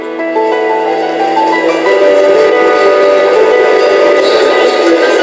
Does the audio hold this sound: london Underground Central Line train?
yes